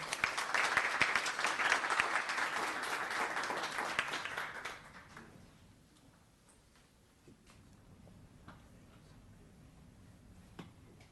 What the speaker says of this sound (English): Round of applause, another one.